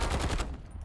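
A short rapid burst of automatic gunfire in the video game Call of Duty Rebirth Island, loud and close, fading after half a second.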